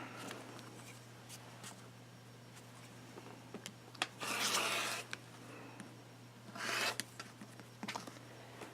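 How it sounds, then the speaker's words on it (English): A rotary cutter slices through two stacked fabric rectangles on a cutting mat during quilt piecing, giving two longer rasping strokes with faint scratchy rubs between them over a steady low hum. "So I'm going to clean cut 2 edges."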